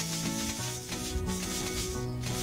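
Saw cutting in the Hay Day mobile farming game, a continuous rasping scrape layered over a soft musical background, moderately quiet and steady throughout.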